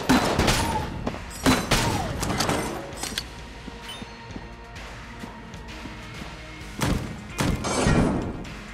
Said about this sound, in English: So like right now, it's gonna be grenades.